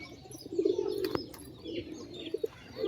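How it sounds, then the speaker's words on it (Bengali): Pigeons in a large home loft of high-flyer birds, cooing in low throaty rolls that swell and fade, close by, with a few short chirps and a brief flutter mixed in. "পায়রাগুলো শখ করুন কত সুন্দর সুন্দর"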